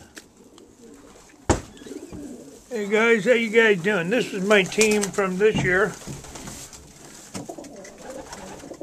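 Racing pigeons coo softly in a young bird loft, a low steady murmur running beneath a man's close, clear talking, with a sharp knock near the start.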